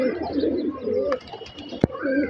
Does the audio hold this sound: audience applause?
no